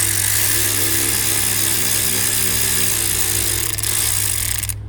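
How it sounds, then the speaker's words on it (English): A power tool whirrs steadily and loudly up close while backing out a 12 mm bolt on a Kia alternator, with a low hum underneath. It cuts off abruptly at the end. "Now I'm gonna remove this bolt right here. That's gonna be a 12 millimeter."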